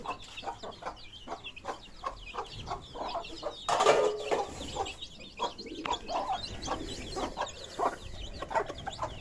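Chickens and a rooster cluck in quick, repeated bursts close by, with a louder flurry of calls partway through.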